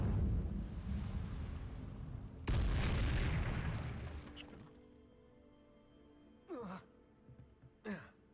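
An Incendio fire spell is cast in Hogwarts Legacy on PS5, heard as a roaring burst with a sudden loud flare partway through that slowly dies away, followed by two short swooping effects near the end.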